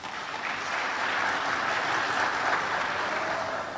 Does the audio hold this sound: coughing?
no